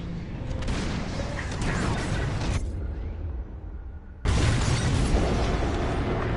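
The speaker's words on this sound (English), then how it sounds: "On my mark, it's bombs away." Bombs explode during a starfighter bombing run in the Star Wars Squadrons video game: a loud, dense roar of blasts that briefly drops away, then surges back even louder.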